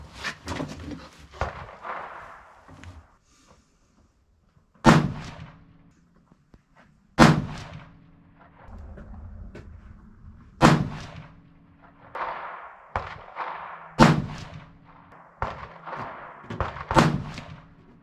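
Five rifle shots from a 6.5 PRC Seekins Precision Havak HIT, loud sharp cracks spaced a few seconds apart outdoors, with quieter handling noises between them.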